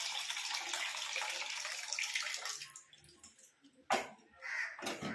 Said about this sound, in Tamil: இப்போ இதை வாஷ் பண்ணுறதுக்கு கொஞ்சம் தண்ணி நான் பிடிச்சி எடுத்துக்கிறேன்.